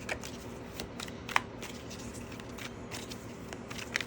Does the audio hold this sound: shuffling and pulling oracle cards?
yes